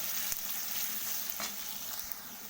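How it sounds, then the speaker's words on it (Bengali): Steady sizzling of onions frying in a hot pan, a continuous crackling hiss with occasional sharper pops, no voices. "পেঁয়াজটাকে আমি একটু বাদামি বাদামি করে ভেজে নেব"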